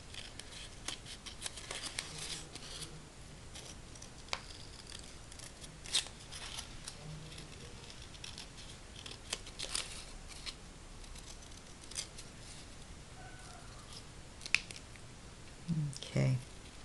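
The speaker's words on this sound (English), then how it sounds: "and then just cutting around it" Scissors cut paper around a drawn flower design, making soft, irregular snipping clicks close by, with a few sharper snips and a cluster of louder cuts near the end.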